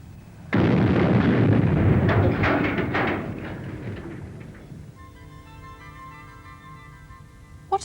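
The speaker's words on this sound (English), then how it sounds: "Look what happened with only half the explosive plus flour." A sudden loud blast from explosive powder mixed with flour bursts into a roaring, crackling whoosh that fades over several seconds into a faint hum.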